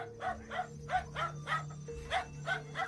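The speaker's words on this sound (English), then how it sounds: "we can immediately see a dog barking loudly at something off screen, his bark sounding clearly panicked" A dog barks loudly and frantically in a panicked, steady series of about eight sharp barks, close by, with a faint background hum.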